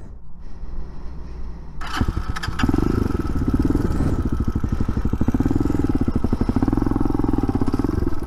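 A TaoTao TBR7 motorcycle that had stalled fires up with a sharp starter burst, then settles into a loud, close, rapid chugging idle with uneven revving, no speech over it.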